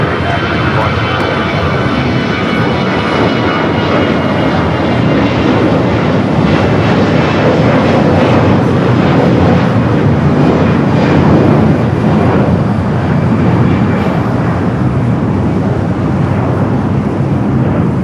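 An airliner takes off at Los Angeles LAX airport, its engines a loud, steady roar throughout, with radio voices talking beneath it.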